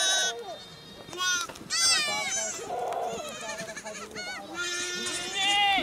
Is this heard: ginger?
no